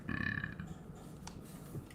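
A short, low guttural burp right at the start, close and fairly loud, followed by quiet room tone.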